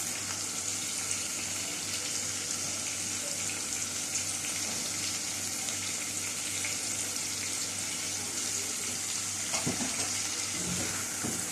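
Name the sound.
stirring and sautéing in a pan until it wilts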